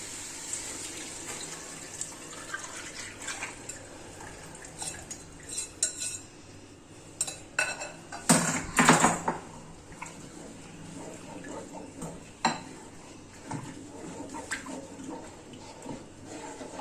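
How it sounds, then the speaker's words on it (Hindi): Lassi made of yogurt and gram flour is poured into a cooking pot for curry pakora, a soft liquid pour accompanied by intermittent clinks and clatter of utensils and dishes, louder midway. "थोड़ी सी लस्सी बच गई थी, वो मैं डालने लगी इसमें।"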